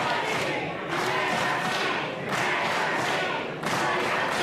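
A wrestling crowd at an AXW match cheers and roars in loud, surging swells, with bursts of shouting rising and falling over a few seconds and no clear commentary on top.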